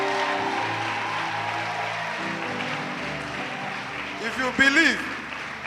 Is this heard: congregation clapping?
yes